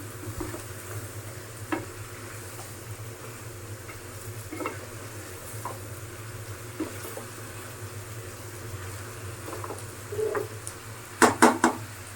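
Chicken pieces being stir-fried in a pan for a Moglai chicken dish, a soft continuous sizzle broken by scattered scrapes and taps of a spatula, ending in a quick cluster of louder metallic clatters.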